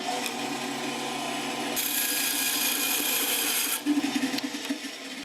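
Steady scraping and rasping as a blade cuts through a section of a soft plastic lure mold for crappie minnows, continuous and close for several seconds, brightening midway, with a few knocks near the end.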